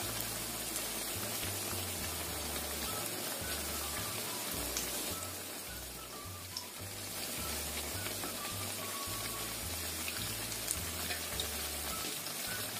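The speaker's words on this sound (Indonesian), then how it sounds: "Kita goreng sampai kuning keemasan" Snacks deep-fry in hot oil until golden, giving a continuous, dense, rain-like crackle and hiss that stays steady and close throughout, with no voices.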